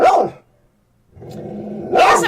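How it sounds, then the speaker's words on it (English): Dogs barking at home, a sharp loud bark at the start, a pause of near silence, then a low growling rumble building into another burst of barking close by. "There's your dogs, Alma."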